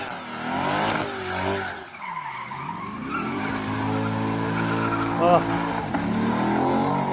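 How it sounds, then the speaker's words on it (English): A Corvette peels out with loud revving and tire squeal, the engine note sweeping down then climbing again, with a voice talking over part of it. "American muscle, baby. That's a Corvette right there."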